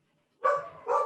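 A dog barks twice, two short, fairly close woofs after a moment of silence.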